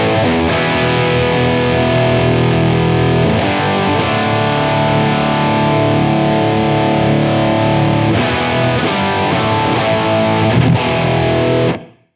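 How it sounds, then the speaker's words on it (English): A heavily distorted electric guitar, an overdrive pedal pushing a distortion pedal, holds thick, saturated chords, strummed a few times, with a dense buzzy sustain that cuts off abruptly at the end. "the overdrive is feeding into distortion. So we're pushing the distortion with the overdrive."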